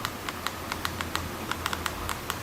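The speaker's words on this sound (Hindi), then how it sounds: "इन्होंने एक ऐसी स्क्रीन डेवलप की जिसके ऊपर अगर आप जोर से दबाओ तो वो टैप करती थी, लाइक दिस।" A BlackBerry Storm's clickable touchscreen is pressed repeatedly, giving a quick series of sharp, close plastic clicks in an irregular rhythm, like typing on a keyboard.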